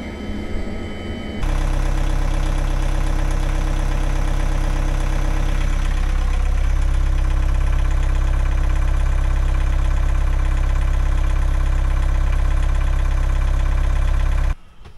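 A narrowboat engine starts and runs steadily after its alternator belts are tensioned, a loud, close, even diesel chug that holds for about thirteen seconds before cutting off, with no voices.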